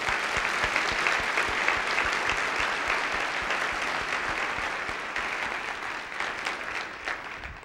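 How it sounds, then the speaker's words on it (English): An audience applauds warmly for Carl, an organization's leader, at a speech event: steady, dense clapping from many hands fills the room throughout, without pause, slowly easing slightly toward the end. "Let's all give Carl a huge round of applause."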